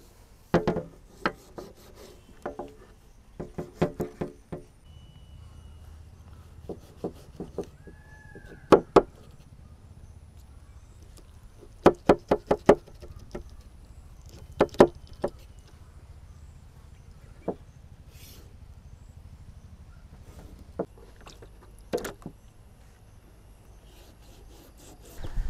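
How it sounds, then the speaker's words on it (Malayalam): A knife scores and stabs into a whole mutton leg in irregular clusters of sharp, close scraping and thudding strokes separated by quiet pauses, with no talking. "കുറച്ച് ആഴത്തിലിങ്ങനെ കുത്തി വിടാം."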